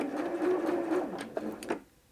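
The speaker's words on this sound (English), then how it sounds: "hold down the reverse button and the machine will sew backwards" A Janome M100 QDC sewing machine stitches in reverse, giving a steady close mechanical whir for about a second and a half, then two brief clicks as it slows and falls quiet.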